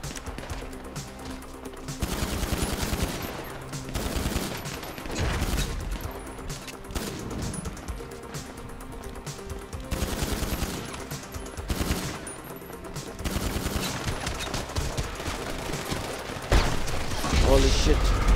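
Gunfire in GTA 5 Online deathmatch, bursts of rapid automatic shots and single reports recurring throughout, loud and close, with people talking over the action.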